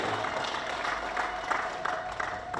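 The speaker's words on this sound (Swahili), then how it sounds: "Tupige makofi mengi sana kwa Rais." A crowd applauding the President, a dense and steady wash of clapping at moderate level that runs without pause for a few seconds, with a faint tone and scattered murmur mixed in.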